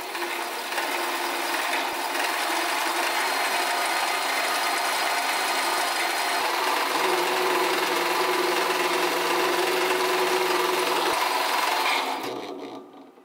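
A 3D-printed magnetic gear subassembly, a modulator sun gear on machined shafts, turns steadily with a continuous mechanical whir and faint rhythmic clicking, close and even throughout before cutting off near the end.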